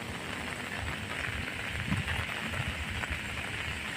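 Heavy rain pours steadily onto a beach and nearby concrete, making a constant dense hiss at close range with no pauses or voices.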